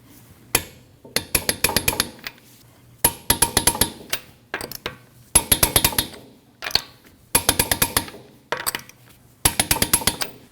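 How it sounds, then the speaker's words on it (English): A torque wrench tightening nuts on a 2013-2019 Ford Escape, heard as close, sharp ratcheting clicks in short rhythmic bursts separated by brief pauses, repeating nut after nut. "You want to torque each nut down at 100 foot-pounds in a star pattern."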